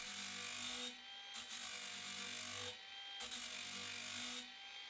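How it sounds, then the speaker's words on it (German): An angle grinder runs at low speed against a steel lawnmower blade during sharpening, giving a steady close whirring grind that breaks off briefly and starts again several times, with no talking. "Beim Schleifen fahre ich mit dem Winkelschleifer im richtigen Winkel möglichst gleichmäßig die gesamte Schneidekante ab."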